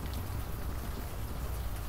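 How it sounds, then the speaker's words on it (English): Warm rain patters steadily in the video game Unavowed, a soft even hiss of drops with no talking. "the warm rain is coming down"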